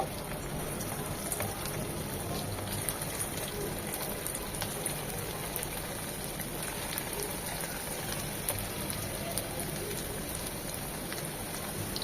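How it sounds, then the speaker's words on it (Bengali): Chicken chops shallow-frying in oil that covers their lower half, a steady dense sizzle and crackle over medium-low heat, close and continuous with no talk. "আপনারা চাইলে পুরো ডুবে তেলে ভাজতে পারেন চপগুলো"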